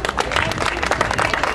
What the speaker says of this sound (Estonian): Siis aplaus loomulikult meile.